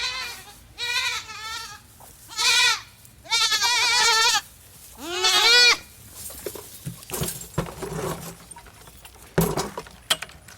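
Goat kids about three months old bleat loudly in repeated bursts, several wavering cries close by while crowding a lamb bar feeder, with jangling, clattering and shuffling between calls.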